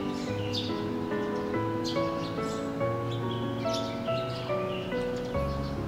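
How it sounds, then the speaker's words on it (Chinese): Birds chirp and tweet outdoors on a bright morning, with insects buzzing alongside. Repeated short calls layer over a steady background hum, moderately loud and close, with no voices. "听着这虫鸣鸟叫声，"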